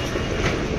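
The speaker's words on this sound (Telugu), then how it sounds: "సో అంధేరి నుంచి వర్సోవా బీచ్కి వెళ్తున్నాం. So in metro." Mumbai metro train running between Andheri and Versova, a loud close rumble of wheels and carriage noise in a short burst.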